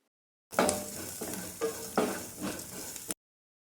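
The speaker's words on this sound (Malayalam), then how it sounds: "വെളുത്തുള്ളിയും ചേർത്ത് നന്നായിട്ടൊന്ന് വഴറ്റിയെടുക്കണം ഇനി പതിയെ മീഡിയം ഫ്ലെയിമിലാക്കിയിട്ട് വഴറ്റിയെടുക്കാം" Garlic sautéing in a pan over a medium flame, a steady close sizzle with a few louder stirring scrapes, lasting a couple of seconds with no voices.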